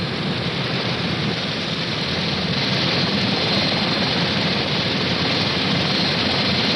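A QH-50 DASH drone helicopter sets down on a ship's deck, its rotors and engine producing a steady, loud, broadband roar that holds evenly throughout with no voices.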